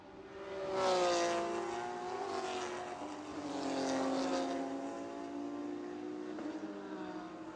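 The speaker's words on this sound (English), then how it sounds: "And here come the Porsches." Porsche GT3 Cup race cars at Sebring's turn 11 in a NASA WinterFest race, engines rising to a loud near pass around one second and again near four seconds, a sustained high-revving drone throughout.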